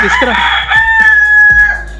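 Egg-laying hens and a rooster at close range: loud clucks and a sustained crow-like call, a brief burst of squawks in quick succession.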